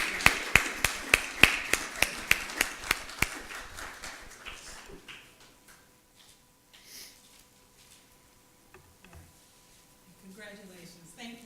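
Crisp, evenly spaced claps ring out at a leadership recognition luncheon in honor of student ambassadors, fading after about five seconds into a quiet room with faint murmurs.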